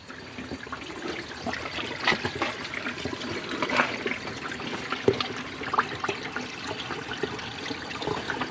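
Water rushes and gurgles through a car radiator and cooling system being flushed, a continuous low-level splashing with scattered bubbly bursts.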